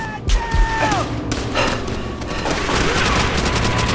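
Gunfire rattles in Call of Duty: World at War co-op play, with bursts of shots and booming impacts layered over continuous battle noise and players talking.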